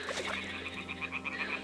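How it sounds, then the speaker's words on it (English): Toads croak in a marsh in the video game Kingdom Come: Deliverance 2, a rapid, repeated trilling chorus over a steady low hum, fairly close and continuous. "Just listen for the sound of toads."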